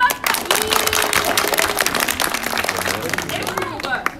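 An audience at a live stage show of a new Thousand and One Nights production breaks into applause. The crowd claps steadily and densely throughout, with cheering and crowd babble mixed in.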